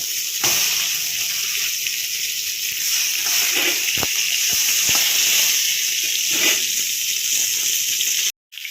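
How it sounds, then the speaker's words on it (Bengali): Fish fries in a pan with a steady, loud sizzle and hiss, broken by a few light clicks and a brief gap near the end. "এখন মাছগুলো ভাজা করে ফেলবো।"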